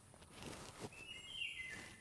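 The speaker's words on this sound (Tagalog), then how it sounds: "Samot-saring huni ng ibon o ng hayop." Birds call and chirp around an abandoned house deep in the mountains, with a few short high chirps and a brief whistled call standing out over a soft outdoor background at low volume.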